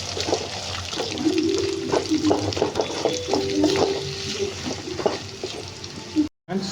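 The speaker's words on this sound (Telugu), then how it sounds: "ఒక పెద్ద ఎర్రగడ్డ కట్ చేసుకున్న వేసుకొని పచ్చికారం పోయేంతకు ఫ్రై చేయండి ఫ్రెండ్స్" Chopped onion and green chillies frying in a pan for egg masala curry, a steady sizzle with stirring scrapes at moderate loudness, a voice talking over it, and a brief cut near the end.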